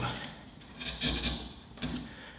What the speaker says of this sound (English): this oak is actually really hard, and I'm going on the end grain